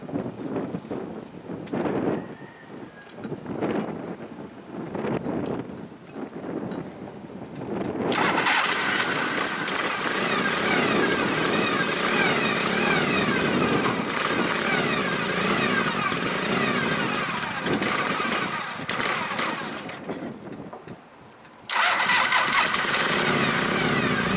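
A rebuilt 1976 Harley-Davidson FXE motorcycle cranks over in short bursts, then fires up and settles into a loud, steady close-up idle, with a brief drop near the end before it runs on.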